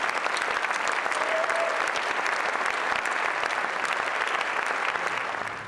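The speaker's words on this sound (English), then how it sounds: "So let's have a big round of applause for all the sponsors." Audience at a cycling team presentation gives loud, steady applause for the team sponsors, dense clapping filling the whole stretch and easing slightly at the end.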